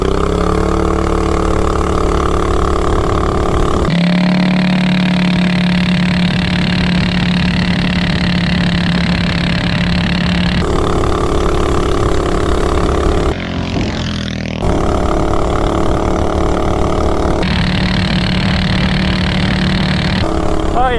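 A vehicle with a Big Block 420 engine and a 30 series torque converter runs loud and close, its steady engine drone cutting in and out in segments with a brief dip near the middle.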